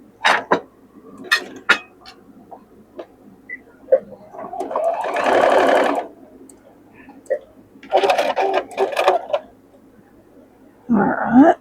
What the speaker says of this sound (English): We've got to sew these 2.